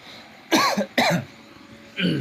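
Three short, harsh coughs close to the listener, each separated by a brief pause.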